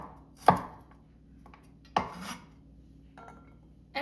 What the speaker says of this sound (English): For the garlic, I'm just chopping it into slices.